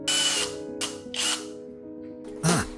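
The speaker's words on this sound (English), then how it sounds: "After drilling the mudguard, I'll align the mudflap and drill matching holes." A power drill bores holes in a bicycle mudguard to mount a mudflap, sounding as several short, whining bursts of the motor, close by, separated by brief pauses.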